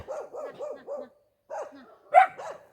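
A dog barks in a quick series of four yips, pauses, then barks a few more times, one sharper and louder, fairly near.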